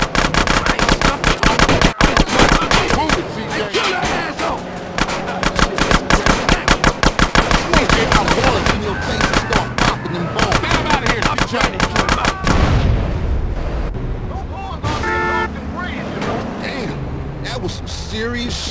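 Rapid bursts of AK rifle fire during a drive-by in the game GTA San Andreas, loud and dense with sharp repeated cracks, easing off near the end as game dialogue and music continue underneath.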